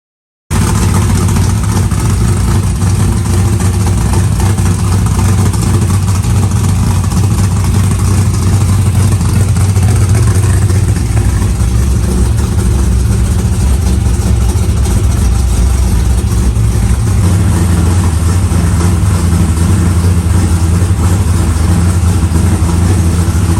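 Loud, close Chevrolet Camaro engine with a Borla XR-1 Raceline muffler idles steadily after a cold start, unrun for a day, a continuous low rumble throughout with no talking.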